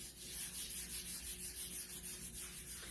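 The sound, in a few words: rubbing wax onto a wooden sign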